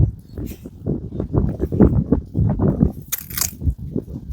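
Close, wet chewing and biting on cooked drumstick (moringa) pods, rhythmic crunching bursts at a steady pace, with a brief rustle near the end.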